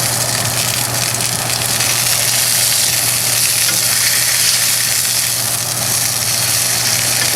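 Hanger steak sears in clarified butter in a very hot pan, giving a loud, steady, dense sizzle and crackle that runs unbroken throughout with no voices.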